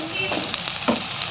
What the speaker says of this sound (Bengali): এই পেঁয়াজ কুচির সাথে আমি আলুটাকে একসাথে ভেজে নেব।